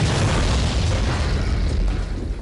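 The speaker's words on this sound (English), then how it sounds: "That was an explosion of dynamite, to be precise." Dynamite explodes in a loud, sustained blast whose roaring rumble fills the whole stretch without a break.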